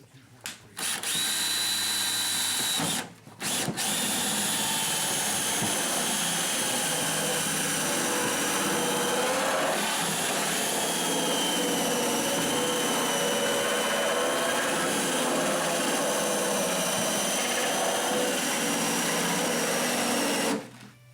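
A loud, continuous power drill whine runs close up for about twenty seconds, pausing briefly near the start before resuming steadily, during a basement shower installation.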